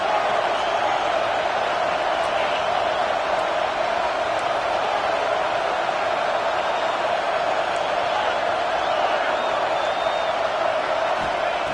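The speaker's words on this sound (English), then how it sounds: "Listen to the crowd energy here in the early going" A steady, dense stadium crowd roar from the College Football 25 video game holds at an even level throughout, with no break or distinct peaks.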